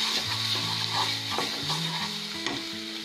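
Ginger, garlic and chili paste sizzles steadily in a pan for a cauliflower sabzi, giving a continuous close frying hiss with a faint stir and scrape and no talk.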